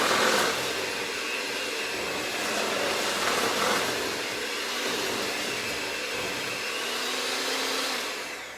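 An electric mixer runs steadily for several seconds, blending flour into chocolate chip cookie dough made with brown butter, with a continuous whirring drone and no talking.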